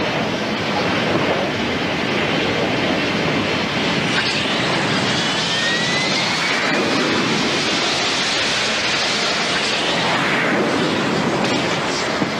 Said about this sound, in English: Aboard the 3 American aircraft carriers in the area, 144 fighter jets take to the air.